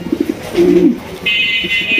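A caged tiger pigeon gives a single low coo, followed by a steady high-pitched buzzing tone in the background.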